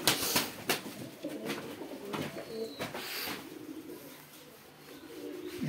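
Tumbler pigeons cooing softly amid a busy background of rustling and handling noises, with low repeated coos throughout.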